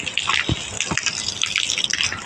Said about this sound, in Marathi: पाणी इकडनं निघतंय